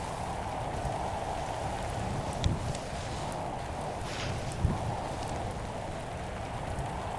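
Steady rain pours down in a Roblox natural disasters game with a constant hiss and patter, with a couple of brief soft knocks and no voices.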